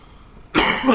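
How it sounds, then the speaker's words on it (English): A single harsh cough bursts out after a quiet stretch, close and loud, following a short hit from a sub-ohm vape on a Vamo V5. "I'm going to cough for sure"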